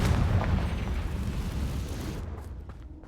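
A Confringo fire spell bursts in Hogwarts Legacy, a loud booming blast that rumbles and fades over a few seconds.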